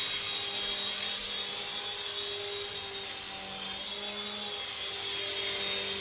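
A Happy Cow Eidolon 777-575 two-channel infrared RC toy helicopter in flight gives a steady, high-pitched motor whine with a rotor buzz, holding constant and close throughout, with no one speaking.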